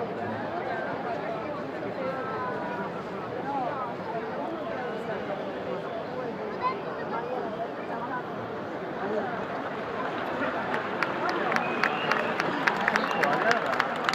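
Crowd applause at the 2014 Land Rover Extreme 40 prize giving at the Barcolana in Trieste, a dense wash of clapping under an announcer's voice, with sharper individual claps standing out toward the end.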